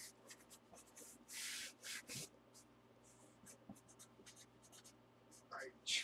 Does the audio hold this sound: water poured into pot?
no